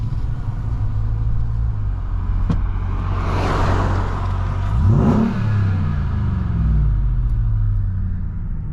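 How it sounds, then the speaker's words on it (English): A RAM 1500 TRX pickup truck's exhaust rumbles deep and steady in sport mode, swelling as the engine revs up midway and then settles back to a low idle. "we get a good little feel of this exhaust"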